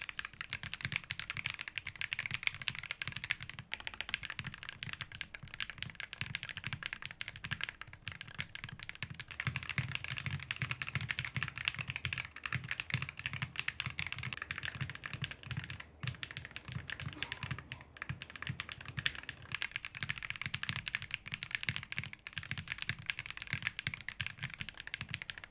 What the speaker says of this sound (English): The Geon Raw switches has a really nice, clean and clacky sound profile to it, and the Jade Pros have a really smooth, balanced sound profile to it.